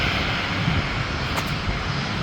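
An Avro RJX 100 jet airliner at Manchester Airport gives a steady, loud, broadband engine roar that holds constant throughout, with no voices.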